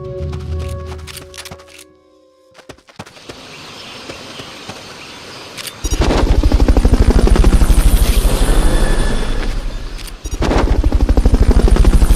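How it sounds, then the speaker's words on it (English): A video game helicopter's rotor thumps loudly and steadily after a quieter stretch, the rapid chopping pulses filling the scene, briefly dipping before continuing; the Fulton recovery helicopter in Metal Gear Solid Peace Walker. "Fulton recovery helicopter is complete."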